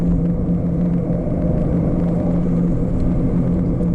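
Steady low exhaust rumble from a 2018 Chevy Camaro RS convertible with a V6, a constant droning idle or cruise tone held evenly throughout with no talking.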